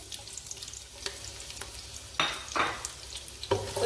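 Hot oil sizzles as a large onion goes into the pan for Hyderabadi haleem. A quiet low hiss is broken by several loud bursts of crackling sizzle as the pieces drop in, and there is no talking.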